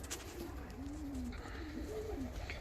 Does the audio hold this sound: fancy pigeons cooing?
yes